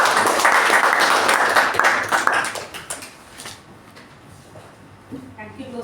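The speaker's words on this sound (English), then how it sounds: "with a big round of applause." Audience at a Toastmasters meeting breaks into loud, dense clapping that fills the first three seconds, then fades off, leaving a quieter room with a few scattered sounds near the end.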